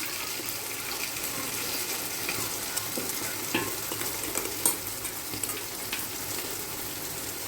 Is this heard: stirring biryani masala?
yes